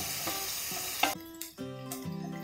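Finely chopped onion frying in a pan until translucent for restaurant-style butter chicken, giving a bright continuous sizzle with a couple of stirring knocks and scrapes.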